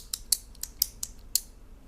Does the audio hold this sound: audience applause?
no